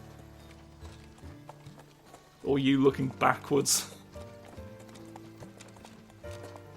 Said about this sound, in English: Oh, a lovely golden horse.